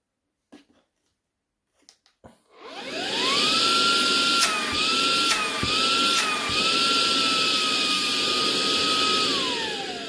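A Kogan Z10/C10 cordless stick vacuum cleaner clicks a few times, then switches on into a loud, steady motor whine with a high tone that shifts pitch slightly and keeps running close by.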